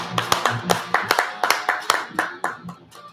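Sharp hand claps repeat in a quick, slightly uneven rhythm, close and loud, slowing and fading near the end.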